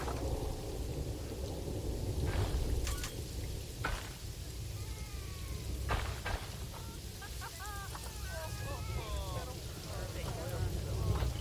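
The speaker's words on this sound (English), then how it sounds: "Always so much rain here." Steady rain with rumbles of thunder in the Planet Zoo management game, a constant wash of downpour filling the background while brief bird-like chirps and short game effects pop in over it.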